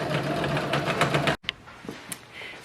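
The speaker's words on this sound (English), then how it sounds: "now we can sew the side seams onto the side panels" Sewing machine stitching the side seams of a coat lining, a close rapid rhythmic mechanical chatter that stops abruptly, followed by a few soft clicks and fabric handling.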